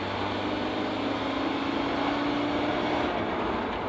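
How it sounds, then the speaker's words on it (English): A steady, droning whir with a faint tonal whine from the rebuilt rear end of a 1997 Ford Ranger pickup driving in third gear, under constant road rumble, loud and unbroken throughout. "the whirling noise is just, golly, just god awful, getting worse"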